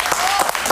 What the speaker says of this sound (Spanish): Un aplauso para María, por favor.